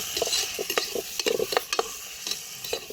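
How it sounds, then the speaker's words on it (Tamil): Onion and tomato sautéing with ground masala paste in a pan for channa masala, a soft continuous sizzle broken by quick repeated scraping and stirring taps of a spoon against the pan, close and alone. "இப்போ வெங்காயம் தக்காளி போட்டு நம்ம அரைச்சி வச்ச பேஸ்ட் இருக்குல்ல, அதையும் போட்டு நல்லா வதக்கிக்கலாம்"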